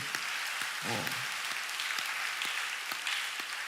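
A church congregation at a Friday late-night prayer service claps together in a steady, dense round of applause, moderately distant and even throughout.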